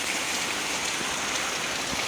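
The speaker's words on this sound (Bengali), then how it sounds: "বৃষ্টি শুরু হয়ে গেছে" Steady rain starts falling outdoors, a dense, even hiss of drops spread across the whole clip, fairly loud and continuous with no voices.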